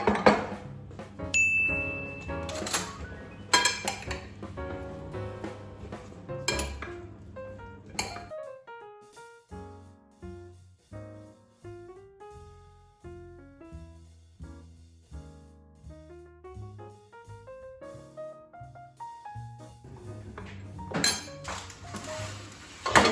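Red pepper flakes and salt being mixed into a dish of cauliflower with a spoon, producing a steady run of light clinks and scrapes against the bowl, close and clear with no talking.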